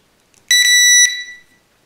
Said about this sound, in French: À ce moment-là, vous avez une petite alarme sonore